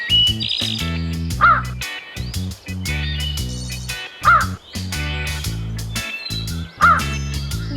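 Three loud, nearby crow caws come at spaced intervals, each a harsh call rising over a continuous, busy background of layered tones.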